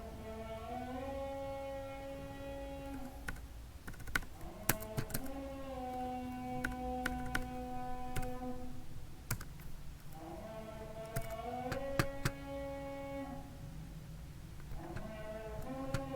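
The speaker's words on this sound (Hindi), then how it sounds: "मैं टाइप कर रहा हूँ।" Scattered, irregular clicks of typing on a computer keyboard, fairly quiet, over a loud, sustained melodic call to prayer (azan) that fills the background.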